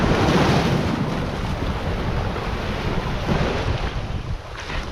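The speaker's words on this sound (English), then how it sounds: "The tide is really in and it's choppy." Choppy sea at high tide in St David's Harbour, Dalgety Bay on the Fife coast, roaring as a steady, loud wash of waves with heavy wind buffeting the microphone throughout.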